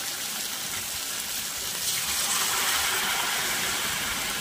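Boiling hot water poured into a pan of banana flower and potato curry after the spices are fried, a steady broad gushing hiss that swells louder about halfway through, with no talk.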